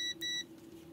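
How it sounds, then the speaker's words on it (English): A multimeter in continuity mode gives two short, faint electronic beeps in quick succession while testing the wires of a heated jacket's cable. "I use my meter to just beep test these"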